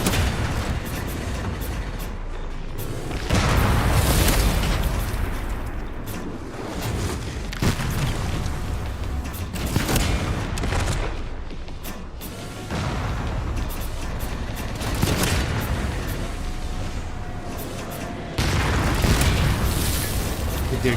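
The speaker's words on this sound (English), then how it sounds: "the shots are getting closer, man." Gunfire in the video game Resident Evil Requiem, booming shots and bursts of blasts recurring over a dense rumbling background, loud and continuous with a voice occasionally underneath.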